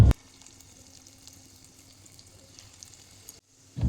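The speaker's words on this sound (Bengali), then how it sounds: "এবার গ্যাসে একটা কড়াই বসিয়ে তাতে তেল গরম করে নিয়ে তাতে এক একটা করে চিকেনের পিস দিয়ে ভালোভাবে" Chicken pieces sizzle in hot oil in a wok over a gas flame, a steady low crackle and hiss throughout, with a couple of louder clunks at the start and end.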